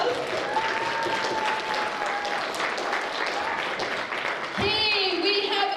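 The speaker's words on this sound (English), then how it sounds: "you guys can give them a round of applause" An audience at a storytelling event claps steadily for the cast in a dense, sustained round of applause. A few voices and a short whistle-like tone rise over it near the end.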